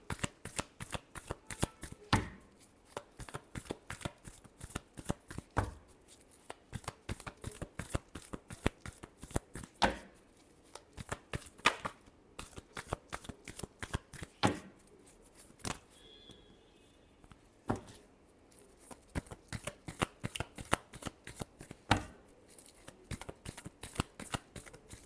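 Tarot cards being shuffled by hand, a steady run of crisp riffling flutters and slaps repeating close up for the whole stretch, with no talk.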